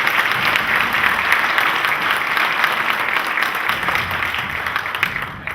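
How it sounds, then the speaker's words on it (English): A conference summit audience applauds in a steady, dense wash of clapping, close and even from start to finish with no talk over it. "Can we have a round of applause, please,"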